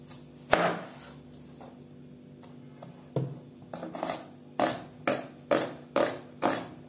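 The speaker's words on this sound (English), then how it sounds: "I want to slice the onions," A knife slices onions on a board, starting with a couple of isolated cuts, then settling into a regular run of crisp, close chops about every half second.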